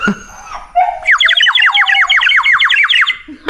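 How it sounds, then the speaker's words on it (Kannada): A bird calls loudly and close by, a rapid series of repeated squawking notes lasting a couple of seconds after a brief lower call. "ಇಲ್ಲಿ ಹಕ್ಕಿ ಕೂಗಲು ಕೇಳ್ತದೆ ಆಯಿತಾ"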